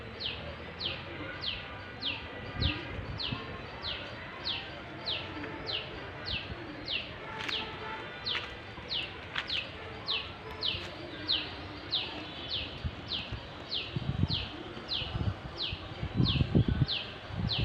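A bird repeats a rapid series of high chirping calls, steady and close, with softer cooing and distant rustling underneath, in a village.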